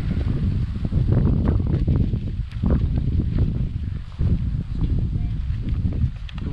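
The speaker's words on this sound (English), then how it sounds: "The wind appears to be blowing in a direction to blow the smoke away from us." Wind gusting steadily across a backpacking campsite in the Gila Wilderness, a loud, continuous rushing and buffeting against the microphone with no pauses.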